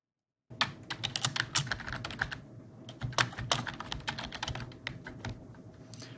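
Rapid typing on a computer keyboard while entering a save description in PCB design software, a dense run of close key clicks starting after a brief silence and continuing steadily.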